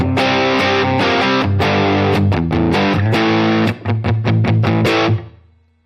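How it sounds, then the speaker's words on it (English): Heavily distorted electric guitar plays chords with a thick, saturated power-section amp distortion tone from a Dumble-style amp patch, then stops and rings out briefly. "this is what kind of the power section distortion might sound like"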